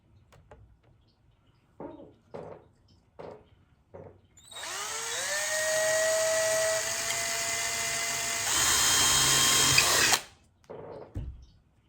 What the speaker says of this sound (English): I've got my drill and I'm just like drilling a hole in the cup